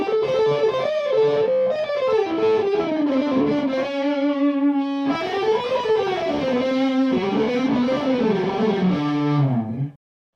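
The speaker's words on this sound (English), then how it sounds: "I've got a Wampler analog echo in the loop." A Metropoulos Metro-Plex guitar amp with a Wampler analog echo pedal in the loop, distorted guitar notes and sustained chords trailing into repeating echoes, loud and alone until it cuts off near the end.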